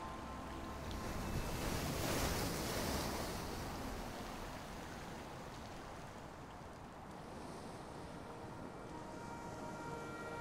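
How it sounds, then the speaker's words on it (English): Sea waves lap and surge against a rocky island shore with caverns, a steady broad wash of surf blended with wind noise, continuous and fairly close. "On the shores, the constant lapping of sea waves have produced many caverns"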